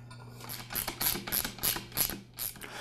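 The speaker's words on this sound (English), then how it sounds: "Now I'll place the pump assembly back onto the tank and secure it with the bolts." Bolts being tightened to secure the pump assembly onto the tank of a Campbell Hausfeld oilless air compressor, heard as a run of quick ratcheting clicks in repeated bursts, fairly close, with no talking.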